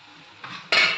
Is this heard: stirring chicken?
yes